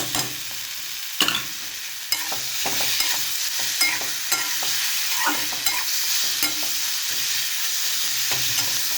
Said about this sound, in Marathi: आता हे जे बोंबील आपण कुटून घेतले होते ते टाकून द्यायचे